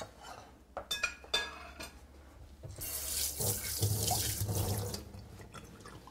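A kitchen sink tap is turned on to refill drinking water, with a few clinks of dishes at first, then a steady, close rush of running water over the last few seconds, no talking.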